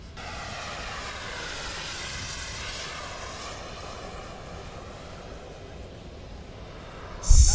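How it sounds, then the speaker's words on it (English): A large swept-wing jet airliner, a Boeing 777-300ER, roars past low in a flight simulator, a broad steady engine rumble with rising whine that holds for several seconds before a sharp loud burst at the end. "bringing a jet this size into a high alpha is pretty wild. Just listen to it as it passes."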